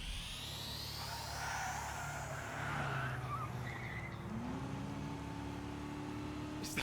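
Engine of a turbocharged car in the video game Trails Through Daybreak, heard as a low, steady drone with a rising whine and tire skids, moderately loud and with no talk.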